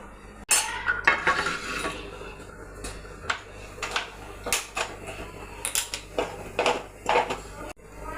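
Cooked tapioca (kappa) stirred in a pot with crushed garlic, cumin and coconut, giving repeated clinks and scrapes of a utensil against metal in an irregular rhythm, close by.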